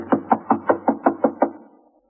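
In a radio drama, knuckles rap on a door in a steady series of about eight even knocks, close and distinct, fading away at the end.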